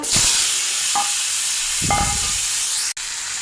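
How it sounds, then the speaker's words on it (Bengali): Potatoes sizzle steadily in a hot pan of oil for a Bengali rohu fish-head and bottle-gourd-greens curry, with a couple of scraping stirs partway through and a brief cut near the end. "এই যে দেখুন আলু ভাজা হয়ে গেছে।"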